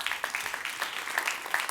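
An audience claps at a conference on child and forced labour, steady scattered applause of many hands heard from a middle distance with no talk over it.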